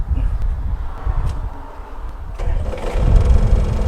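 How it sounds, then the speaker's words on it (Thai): A Hitachi ZX35U-3 mini excavator engine cranks and catches, then settles into a steady low rumble, loud and close with no talking. "เรามาฟังเสียงเครื่องยนต์กันนะครับ"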